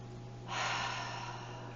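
A single slow, audible breath taken during a yoga class, a soft airy inhale swelling up close and then easing off, with no talking.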